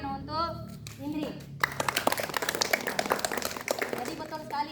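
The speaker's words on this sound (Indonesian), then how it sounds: "Tepuk tangan untuk Indri" A classroom full of students claps for a classmate, a burst of scattered hand claps that starts abruptly after a few seconds of a voice and keeps going fairly steadily to the end.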